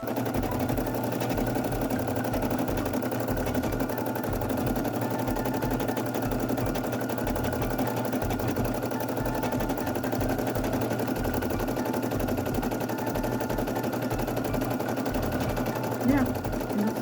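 A Brother SE1900 embroidery machine stitches a design onto a baby t-shirt with a steady, rapid mechanical chatter, running continuously nearby while a person talks over it.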